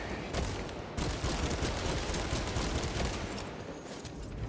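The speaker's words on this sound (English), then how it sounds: "Deploying frag grenade." Frag grenade and gunfire in Warhammer 40K Space Marine 2, a dense, continuous fusillade of rapid shots and blasts with a sharp burst about a second in, loud and sustained throughout.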